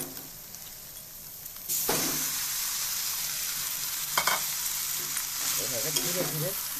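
Noodles fry and get stirred in a pan with onion and tomato for a garlic egg-potato noodle dish. A steady sizzle jumps louder partway through, and scraping stirs come close in short bursts near the end.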